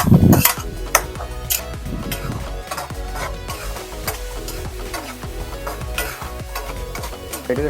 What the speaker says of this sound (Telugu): మిర్చి అయితే ఆల్రెడీ నేను దీంట్లో వేస్తాను కాబట్టి మిక్స్ చేస్తాను